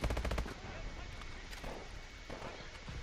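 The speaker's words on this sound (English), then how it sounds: "they start shooting me and I'm going to start taking all the damage" Rapid automatic gunfire from the Call of Duty: Advanced Warfare campaign mission Induction, a loud burst of shots opening the moment, then further scattered shots and bursts over game background noise.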